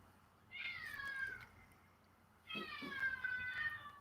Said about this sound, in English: I don't know if you guys can hear my cats. They're in the other room whining.